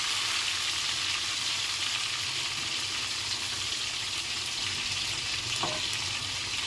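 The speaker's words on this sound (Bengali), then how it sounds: "সবচেয়ে বিরক্তিকর কাজ হলো এই উল্টানোর সময় মাছ ভাজা" Fish frying in hot oil in a pan, a continuous loud crackling sizzle close up, with one brief tap of a utensil near the end.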